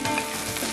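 Ginger garlic paste frying in a pan gives a dense, steady sizzle, close and fairly loud, alone without voices for a brief moment.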